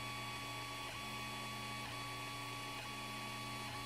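A Creality Ender 3 Pro 3D printer laying down its first layer hums with steady tonal stepper-motor whine and fan noise, with faint periodic shifts roughly every second, continuous and close.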